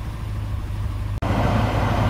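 A Jaguar XJ12 Series 3 engine runs steadily at about 1500 RPM, a continuous loud low hum with a brief cut-out mid-way before the drone resumes, no talk over it.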